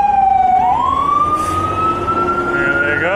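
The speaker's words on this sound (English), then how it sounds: "It's a fire truck." A fire truck siren wails loudly and close by, its pitch rising and sweeping steadily over the rumble of heavy road traffic in Vancouver's West Point Grey, with no talking.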